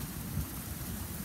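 Rain falls continuously outside, a constant close wash of droplets hitting surfaces, unbroken and alone with no talking over it.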